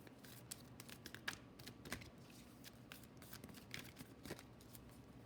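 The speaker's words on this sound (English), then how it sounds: "Let's shuffle some more here." A deck of tarot cards is shuffled by hand during a card reading, producing repeated soft riffling bursts and quick flicks in an irregular rhythm, close and fairly quiet with no talk.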